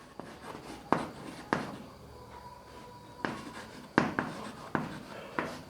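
Writing during a Class 11 maths lesson, close scratchy strokes and taps of a pen or marker with irregular pauses between them, quiet and with no talking.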